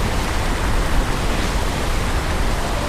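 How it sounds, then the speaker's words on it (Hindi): A loud, powerful waterfall roaring nearby, a dense continuous broadband rush of falling water with no breaks and no voices. "यहाँ पर खड़े होकर इस वाटरफॉल की जो आवाज़ आ रही है वो इतनी तेज़ आ रही है"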